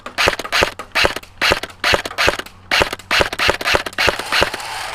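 An airsoft rifle fires in rapid bursts of sharp clicking shots until the magazine empties; roughly a dozen short strings come close and loud, with brief gaps between them and no voices over the shooting.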